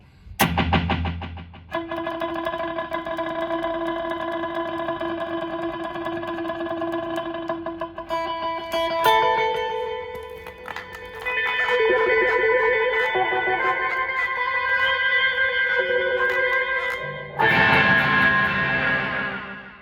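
A guitar through two stacked delay effects on a Zoom G1x Four rings out in sustained, layered notes, each phrase trailing long repeating echoes that pile up into a dense, shimmering wash.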